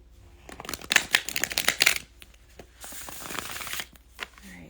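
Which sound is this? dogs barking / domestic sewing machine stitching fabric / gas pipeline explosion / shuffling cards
shuffling cards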